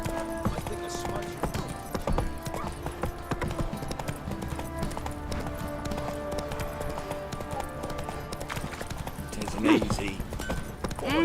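Roach the horse trotting in The Witcher 3, a continuous clip-clop of hooves under background game music, with a brief spoken word from a man near the end.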